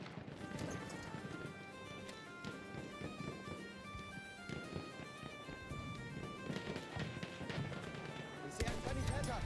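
Cavalry horses gallop in Battlefield 1, hoofbeats rolling steadily under a busy wartime mix of music and effects, with voices talking over it.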